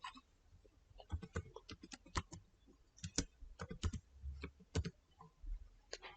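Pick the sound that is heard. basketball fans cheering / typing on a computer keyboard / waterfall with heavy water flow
typing on a computer keyboard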